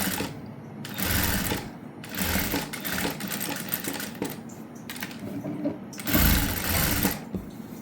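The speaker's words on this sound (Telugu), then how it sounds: "పైపింగ్ని ఈ విధంగా యాడ్ చేసుకుంటూ స్టిచ్ చేయాలి." A sewing machine stitches piping onto the front parts of a prince cut blouse, running close and loud in several bursts of rapid whirring and needle clatter with short pauses between them.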